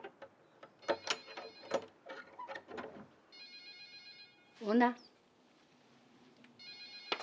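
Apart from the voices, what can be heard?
telephone bell ringing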